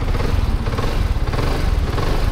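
A BMW C400 GT scooter engine running steadily at close range, a continuous low mechanical drone with a slightly rough, throbbing texture and no voices over it.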